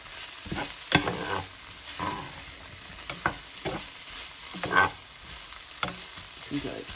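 Singapore noodles are stir-fried in a pan, giving a continuous sizzling hiss broken by several sharp spatula scrapes and clacks, close up, with no talking.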